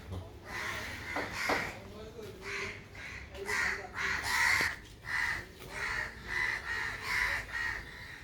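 Several crows caw repeatedly in bursts, fairly close and loud, with a person speaking intermittently underneath.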